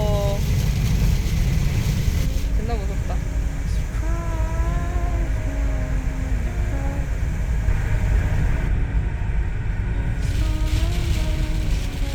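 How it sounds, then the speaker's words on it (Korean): Strong gusty wind roars around a camper van parked on the southern coast, a broad constant rush under the voices of people chatting inside. "바람 소리 봐."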